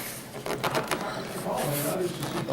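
Wing panels of an electric RC plane slid and dropped into place, the bottom surface going in first and then the top: close, dry rubbing and scraping of plastic or foam with a few soft knocks.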